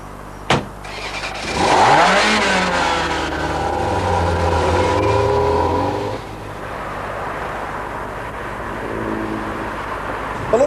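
A Ferrari 348 driving past: a sharp click, then the engine note swells loud and rises in pitch through gear changes, holding a strong hum before fading to a softer drone and rising again at the end.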